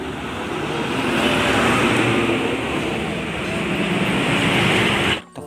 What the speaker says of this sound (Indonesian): ada lagi truk tangki lagi, teman-teman